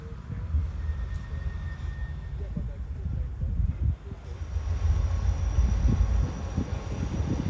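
The 17 Up Millat Express passes near Lahore, heard as a rumbling, continuous roar that grows stronger toward the end, with speech over it.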